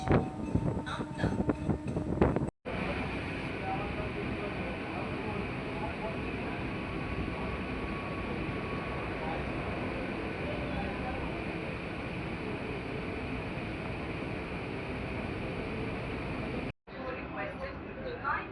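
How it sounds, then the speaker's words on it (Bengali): An Indian local train from Howrah pulls into Amta station, a steady loud rumble and wind roar inside the carriage lasting most of the stretch, with brief bits of voices and station noise at the start and the end. "এই যে দেখতে পাচ্ছ আমতা স্টেশনে আমাদের ট্রেন ঢুকছে"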